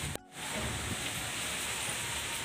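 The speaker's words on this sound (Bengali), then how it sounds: "কতটা বৃষ্টি পড়ছে" A steady, soft hiss of rain falls during a storm, continuous and fairly faint after a brief dip at the start.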